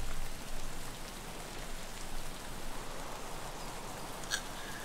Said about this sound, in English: Just get to hear the nice relaxing rain sounds.